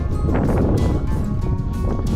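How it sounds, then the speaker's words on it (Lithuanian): Strong wind rises on an open mountain ridge in South America, roaring loudly and continuously and buffeting the microphone with gusty rumble. "Vėjas kyla."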